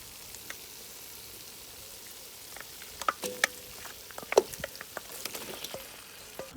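Lamb sizzles as it is dropped into hot separated oil for a lamb and spinach curry cooked outdoors in a garden. A steady, quiet hiss is broken by sharp crackles and spatters as the meat is stirred.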